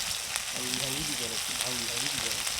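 Chopped onions fry in oil with cinnamon, cardamom and cumin on a village clay stove, a steady close hiss and crackle with a voice murmuring underneath.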